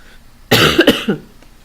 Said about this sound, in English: I'm just going to mute my mic a second whilst I cough and splutter.